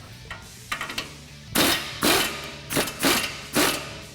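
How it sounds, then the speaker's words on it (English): Ratcheting and impact-like bursts from a 21mm socket removing a tie rod on a 2017–2019 Ford F-150 Raptor during a leveling kit install, several sharp close bursts in quick irregular succession. "Remove the tie rod with a 21mm socket."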